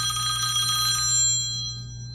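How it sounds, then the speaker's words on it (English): A mobile phone rings with a bright electronic tone that sounds clearly for about a second, then cuts off and leaves a low steady hum. "I'm sorry, that was my phone"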